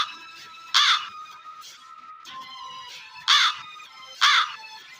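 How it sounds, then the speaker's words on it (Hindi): A crow caws three times in loud, harsh bursts, spaced a second or two apart, with fainter bird calls between them. "अरे ये तो कौवे की आवाज है"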